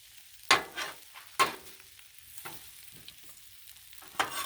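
Smoked sausage and chopped vegetables sizzle on a hot griddle, with a faint steady hiss broken by several loud scraping bursts from a spatula turning the food, close by and without speech.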